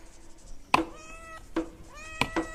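A cat meows in a puppet-theatre telling of Noah's story. There are three or four close, clear meows, one long and the rest short, with quiet gaps between them.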